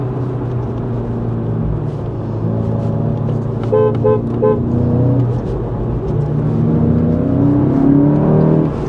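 A VW Golf GTI Clubsport S, a front-wheel-drive hatchback, drives on the Nürburgring Nordschleife; its engine drones steadily from inside the car with rising and falling pitch and a brief tonal chirp midway.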